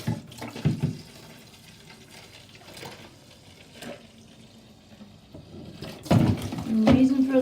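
Water from a tap trickling into a container in intermittent splashes, building to a fuller, louder flow near the end, with a few faint handling noises in between.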